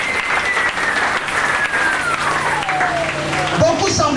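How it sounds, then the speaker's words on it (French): An audience at a spiritual seminar on faith and spiritual combat applauds loudly. The clapping is continuous and dense for the whole stretch, with a gliding tone and some voices mixed into the crowd noise. "acclamez très fort"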